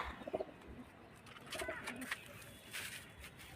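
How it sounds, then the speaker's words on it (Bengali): Pakistani pigeons coo softly in short, throaty bursts, with faint background noise and a voice speaking quietly in the distance. "পায়রা দেখাচ্ছি তোমাদেরকে, পায়রা এই দেখো"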